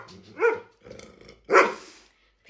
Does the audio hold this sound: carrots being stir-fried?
no